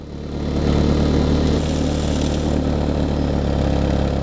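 A BMW E36 318iS idles through its aged stock exhaust, giving a steady low, even hum that swells slightly in the first half-second and then holds level and close, with no talking.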